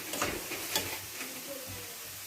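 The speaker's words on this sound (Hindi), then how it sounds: "ये देखें प्याज हल्का हल्का सा ब्राउन होना शुरू हो चुका है।" Onions turning light brown, frying and being stirred in a pan: a steady soft sizzle with scraping strokes and a sharp clatter at the end.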